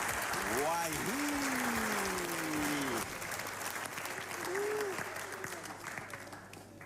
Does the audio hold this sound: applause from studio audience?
yes